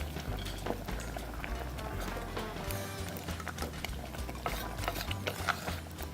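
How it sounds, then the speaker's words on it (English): Pasta and chicken sauce cooking in a pot while being stirred, a soft continuous bubbling and sizzling with faint scraping, quiet and steady with no talk. "And stir it up"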